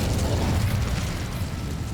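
A fire spell erupts in a video game with a dense, steady roaring burst of flame that holds at full strength for about two seconds, with no pauses.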